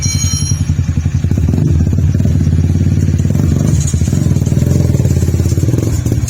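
A custom-built motorcycle in first gear pulls away as the clutch is released, its engine rumbling loud and close in a steady, continuous throb with a few mechanical clatters, no talk over it.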